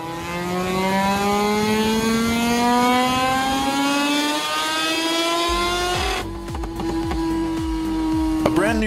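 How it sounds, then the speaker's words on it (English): A stripped-down racing motorcycle with a rotary engine screams on a dynamometer stand, its pitch climbing steadily toward the red line before a harsher, busier roar cuts in near the end, loud and continuous. "a stripped-down bike on a dynamometer stand, screaming its way into the red zone"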